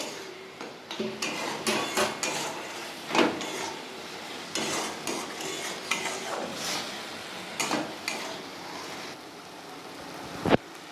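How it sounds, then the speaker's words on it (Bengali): Spices fry in oil in a pan while being stirred, giving a close, busy mix of sizzling and irregular clattering scrapes of a spoon against metal, with a sharp knock near the end. "এই সব মশলাগুলো আমি ভালো করে একটু কষে নেবো যতক্ষণ না তেলটা উপর দিকে উঠে"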